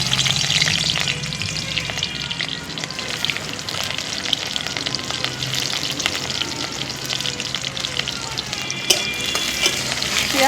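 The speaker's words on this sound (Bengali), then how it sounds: "পেঁয়াজটা লাল লাল করে ভেজে নেব" Chopped onions frying in very hot oil in a home kitchen pan, a loud, steady crackling sizzle with occasional stirring scrapes, close and continuous without any talk.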